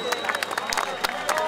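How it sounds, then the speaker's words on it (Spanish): A crowd at a plaza rally for a governor in Veracruz claps in a lively patter with distinct individual claps, mixed with crowd murmur and a nearby voice over a steady background hum. "Y arriba esas palmas, señoras y señores"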